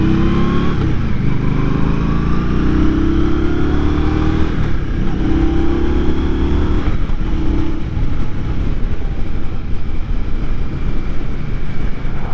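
An Indian Scout Rogue motorcycle ridden at low speed, its engine droning steadily and rising in pitch as it accelerates, with wind rush buffeting the microphone throughout and no talking.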